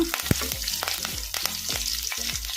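Mustard seeds, cumin and curry leaves sizzle in hot oil, a crackling fry with rapid little pops and repeated stirring scrapes, close and fairly quiet.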